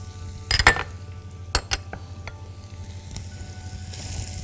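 Onions and carrots browning in oil and butter in a pan, a quiet sizzle under a few sharp metallic clinks of a utensil against the pan early on, then softer scrapes.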